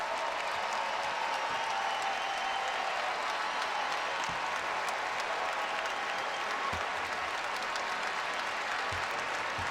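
A college basketball arena crowd of Tar Heels fans applauds a departing Notre Dame player in an Elite Eight game, a steady roar of clapping and cheering that holds throughout.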